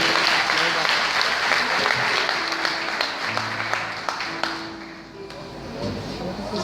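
A church congregation applauding after a call to praise the Lord, a dense sustained wash of clapping from a large crowd that thins out toward the end, with a voice speaking over it.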